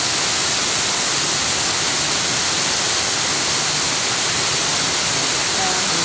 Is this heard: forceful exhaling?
no